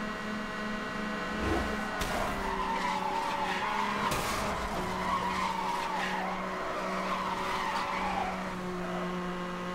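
A car in Need for Speed Hot Pursuit drifts and crashes. Engine tones hold steady under the long screech of sliding tires, and sharp impact bursts break in near the two- and four-second marks.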